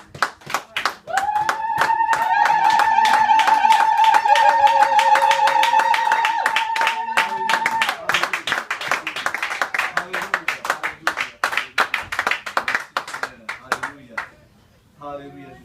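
A church congregation claps together in a steady, fairly loud rhythm, with a sustained tone ringing over the first half, then the clapping continues looser and fades near the end.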